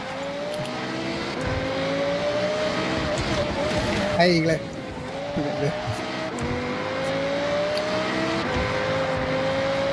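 A race car engine in a video game revs in a steady harmonic drone whose pitch climbs and dips as the car accelerates, loud and continuous, with excited voices talking over it.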